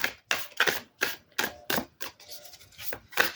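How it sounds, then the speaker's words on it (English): A rose petal finish tarot deck being shuffled by hand, the cards moving in clumps. Crisp, fairly close papery snaps and riffles come in quick uneven bursts about every third of a second, with no talking. "It's not what I'd call a free shuffle. So it shuffles in clumps."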